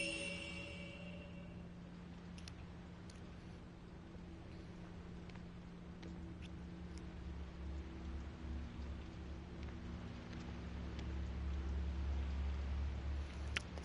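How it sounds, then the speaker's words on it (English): Rain against a window in the Fatal Frame 5 video game, a soft steady patter with faint scattered drops over a low ambient hum that swells toward the end, no voices. "The sound of raindrops on the window echoes faintly."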